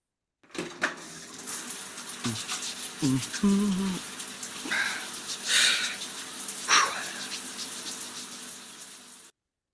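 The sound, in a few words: shower water running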